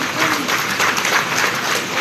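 Audience applause at a gathering: a dense, steady burst of many hands clapping together, loud and close, lasting a couple of seconds.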